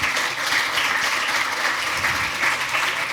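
Audience applause at a startup demo session, a continuous even wash of many hands clapping at steady volume, with no voices above it.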